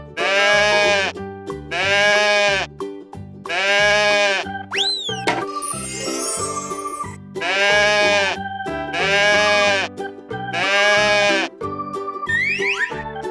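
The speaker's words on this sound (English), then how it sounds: "Goat." Goat bleating in a series of strong, quavering calls with regular pauses, loud and close, interrupted midway by a boing effect and a burst of jingling noise.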